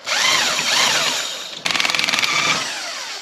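A corded power tool, likely an impact wrench, removes 15 mm bolts from a Polaris General 1000 during wheel bearing work. A steady whir gives way to a burst of rapid rattling hammer impacts, loud and close.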